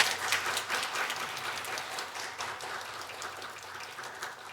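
Church congregation at a Wednesday service applauding to welcome a missionary, a burst of clapping that starts strongest and gradually thins out over a few seconds.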